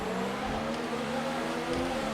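Formula 1 cars in the F1 2019 video game hold high revs on the grid at the Singapore Grand Prix, a steady dense engine drone filling the whole stretch with no clear launch surge.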